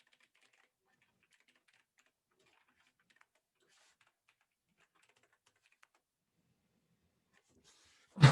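Faint, sparse clicks of fingers typing on a computer keyboard, scattered soft taps in a quiet room, ending with a sudden loud thump.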